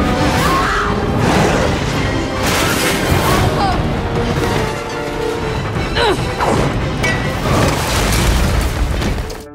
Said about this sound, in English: Trevor's car smashes a big hole in the wall